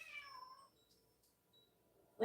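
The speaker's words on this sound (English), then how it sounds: "Cat is meowing." A house cat gives a drawn-out meow that fades after a moment, followed by near silence and then a sudden louder sound at the very end.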